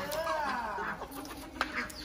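Chickens cluck softly and intermittently while feeding nearby, with faint background voices.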